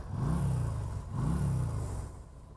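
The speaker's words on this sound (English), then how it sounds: "Just want to go up to the Harley up there and rev at them." A Yamaha V Star 250 motorcycle engine revs twice in quick succession, each rise and fall a loud, close, throaty surge with a steady rumble between.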